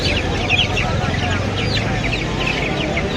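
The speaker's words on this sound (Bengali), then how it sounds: "এখানে বিভিন্ন জাতের মুরগি রয়েছে, যারা নিতে ইচ্ছুক সরাসরি চলে আসবেন কাপ্তান বাজার হাটে।" Brahma chickens at the Kaptan Bazar poultry market cluck and squawk continuously, close and fairly loud, over busy crowd noise.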